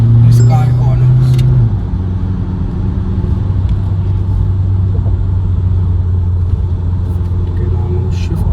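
A 2023 Mahindra Scorpio N diesel SUV engine rumbles steadily and pulls through gear changes under full acceleration, with a brief rise in pitch early on. Someone talks over the engine noise.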